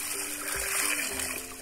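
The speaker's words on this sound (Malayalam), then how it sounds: "എടുത്തിട്ടുണ്ട് വെള്ളം ഒഴിക്കുക" Water pours and splashes steadily into a bowl to wash raw chicken in a home kitchen, a soft, close, continuous trickle with no voices.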